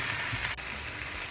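Mince meat frying in a frying pan, being scraped with a wooden spoon while cooking qeema with bone: a steady, dense sizzle with a faint scrape, fairly quiet and uninterrupted.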